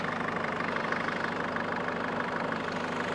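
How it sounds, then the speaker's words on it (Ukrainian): A Mercedes-Benz 413 CDI Sprinter van's diesel engine idles steadily nearby, a constant low rumble with a faint knocking rhythm and no voices. "І працює двигун чистенько."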